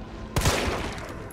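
Gunfire in Resident Evil 3: a single sharp shot bursts out, followed by a short burst of rapid cracks and a decaying echo over steady game ambience.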